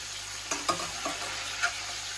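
Steady sizzle of liver frying in a pan with a few soft clinks and scrapes of stirring, no voices.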